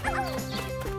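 A dog lets out a single close, sharp bark that trails into a brief whiny yelp, heard alone and clearly.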